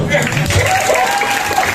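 A mosque audience at a Maulid Nabi gathering claps together, a short burst of applause mixed with crowd murmur and a voice speaking over it.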